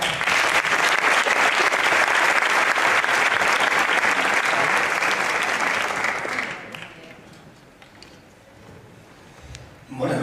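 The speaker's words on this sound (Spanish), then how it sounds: "Un aplauso también para él." Audience applauding at an awards ceremony for a La Mancha wine designation of origin, dense loud clapping for about six and a half seconds before fading into room noise, with a brief swell at the very end.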